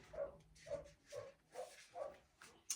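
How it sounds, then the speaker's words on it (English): Dogs bark in a steady series of five or so evenly spaced barks, moderately close and fairly quiet in an indoor setting, ending with a brief sharper sound. "Sorry about the dogs."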